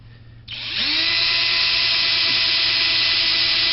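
A power drill with a 1/8-inch bit spins up after a brief quiet moment, then whines steadily at high speed, loud and close, boring through wood.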